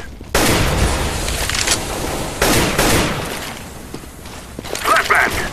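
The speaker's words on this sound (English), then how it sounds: "I'm throwing a grenade!" A grenade goes off in the game Counter-Strike: Global Offensive amid a close, continuous burst of gunfire. Sharp blasts keep interrupting steady shooting, and players talk throughout.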